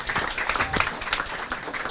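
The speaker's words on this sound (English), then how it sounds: "a round of applause for PaySafe" Lively applause at a crypto meetup in Sofia, with dense overlapping claps from a nearby crowd that continue steadily with no talk.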